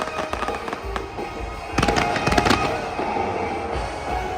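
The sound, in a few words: fireworks exploding over the bay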